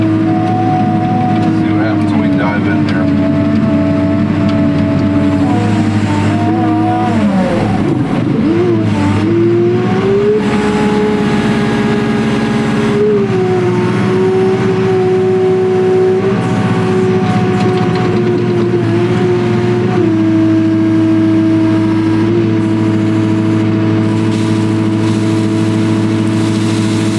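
Diesel engine of a skid steer loader idling and revving while being operated, a loud close tonal drone that rises and falls in pitch several times over the stretch, with steady hum throughout.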